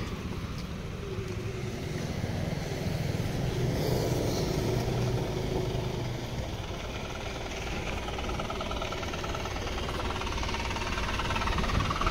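A vehicle's engine runs with a steady, moderately faint hum and rumble that continues unbroken, with no one talking.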